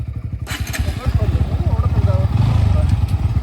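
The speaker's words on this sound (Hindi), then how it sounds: "मैं चला रहा हूँ अब पल्सर, देखते हैं कुछ फ़र्क रहता है या फिर रिजल्ट सेम रहता है।" A Bajaj Pulsar NS125 motorcycle accelerates hard in a drag race, its engine pulsing rapidly and climbing in pitch, loud and close.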